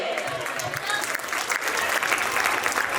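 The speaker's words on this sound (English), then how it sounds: "Have a loud applause for them." An audience at a school function applauds senior KG students after their Eklavya skit, a steady, dense wash of clapping that holds at even loudness for the whole stretch, with faint voices mixed in.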